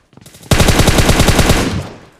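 Rapid automatic gunfire in a tactical shooter game, a dense burst of about fifteen evenly spaced shots lasting roughly a second and a half, loud and close, then an abrupt stop with a brief trailing decay.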